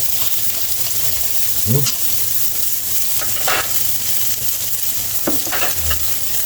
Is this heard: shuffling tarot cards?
no